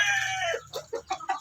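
Texas gamefowl chickens on a small backyard farm give a short run of clucks, close and fairly loud, with a drawn-out call leading into several quick separate clucks.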